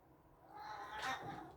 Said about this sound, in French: Les chats.